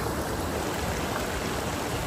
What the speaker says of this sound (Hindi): तो यहाँ से कुछ पानी आ रहा है गाइस